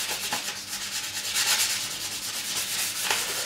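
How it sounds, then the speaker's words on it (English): The neck of an Ibanez Roadstar II RG200 guitar is sanded back to bare wood, making steady, close rasping strokes that repeat in an even rhythm with no talking. "We have the neck sanded back to wood"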